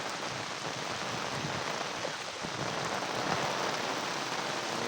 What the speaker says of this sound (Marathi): पाऊस जोरात आलेला आहे